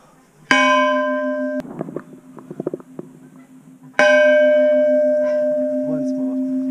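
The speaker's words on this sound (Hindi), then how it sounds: "this big घंटी we are going to ring. This is a huge घंटी." A huge temple bell at Tungnath, half buried in snow, is struck twice, each a loud clanging strike with a long ringing hum, separated by a few seconds of faint shuffling and knocking.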